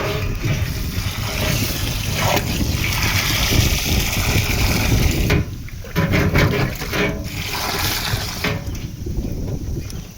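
Water rushes steadily through a drip irrigation pipe into a barrel on a farm, a continuous close gushing and splashing flow that briefly dips and changes texture midway, with no talking.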